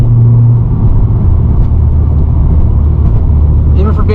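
A modded Acura TSX rounds a bend, its engine and road noise making a loud, steady rumble heard from inside the cabin, with someone talking over it.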